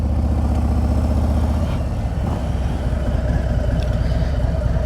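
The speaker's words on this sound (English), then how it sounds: "When I'm ready to go, a little more gas, and I'll let the clutch out a little bit." A motorcycle engine rises in revs as the clutch is eased out to pull away on a hill, a steady close rumble that continues throughout with no talk over it.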